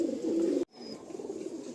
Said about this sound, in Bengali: এই এক পেয়ার আমার গোল্ডেন পায়রা দেখুন